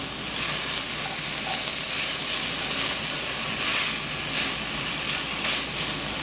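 Onions and freshly chopped herbs fry over medium heat in a pan, giving a continuous, bright, crackling sizzle that stays steady and close throughout.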